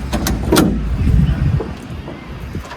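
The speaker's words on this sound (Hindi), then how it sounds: "आपका सेफ्टी के लिए ये लॉक्स को आप दरवाजे को इस तरीके से लॉक कर सकते" A Force Tempo Traveller door is opened and then locked: a close, loud set of clunks and rattling mechanical latch sounds over a few seconds, with no voices.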